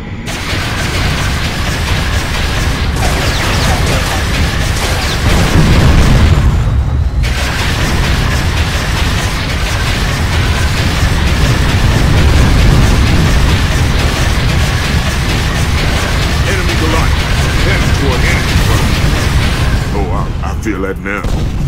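Loud, continuous battle din from the Unreal Tournament 3 video game as a Goliath tank is destroyed, with dense booming blasts and rumbling explosions layered under game voice announcements.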